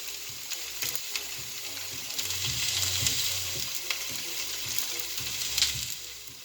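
Carrots frying in a hot pan for Asian-style rice with pork and vegetables, a loud, constant sizzle close by with intermittent stirring scrapes and crackles, no voices.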